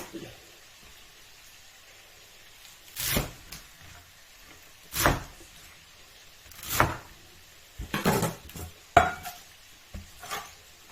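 A spatula scrapes a pan in several spaced-out strokes while wild garlic is stir-fried with minced chicken and tofu, over a low steady background.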